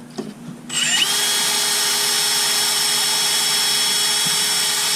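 A power drill bores steadily into wooden workbench boards after spinning up, a loud continuous whine holding alone for several seconds.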